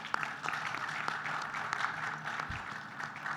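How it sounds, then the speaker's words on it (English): An audience gives a round of applause for panelists at a conference pavilion, moderate scattered clapping from a modest crowd with a few sharper claps, steady and slightly distant. "I would like to invite participants for a round of applause"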